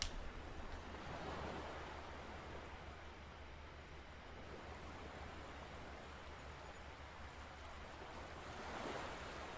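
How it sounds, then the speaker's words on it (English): Ocean waves crash and wash in a continuous, soft surf roar in the video game Anodyne 2, swelling gently toward the end with no voices over it. "and from the silence, the crashing of waves."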